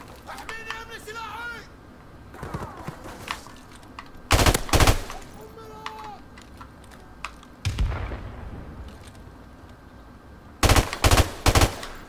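Bursts of automatic gunfire from Call of Duty 4: Modern Warfare, loud and close, come in several rapid clusters between stretches of a player's talking and game sounds.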